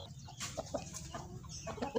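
Soft chicken clucks, a few short calls scattered over a steady low rumble of background noise, fairly quiet and close.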